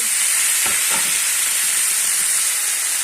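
Tomatoes sizzle steadily in a hot pan, with a bright continuous hiss of frying and a couple of soft scraping stirs near the start.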